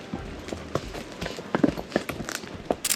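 A horse walks over rough ground strewn with broken-down trees in Patagonia, its hooves thudding and clopping in an uneven rhythm, close by and moderately loud, with a faint voice now and then.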